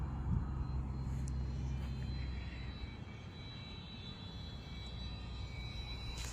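An RC Cub v.2 model airplane flies overhead on a windy day, its small electric motor giving a steady whining drone that slowly fades as it moves away, with no talk.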